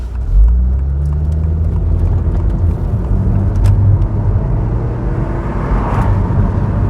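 A Saab convertible driving with its roof down, a loud low engine and road rumble with wind noise, steady and close throughout.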